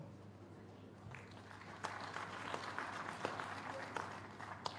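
Applause in a university convocation hall during the UNILAG convocation ceremony, a quiet patter that swells into louder, steady clapping from a seated audience midway through and continues to the end.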